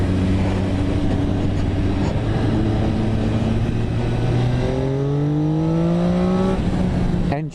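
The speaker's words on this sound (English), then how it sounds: "Engine sounds" An MV Agusta Dragster 800 motorcycle on its standard exhaust revs loudly and close by, its steady idle drone climbing smoothly in pitch before dropping away.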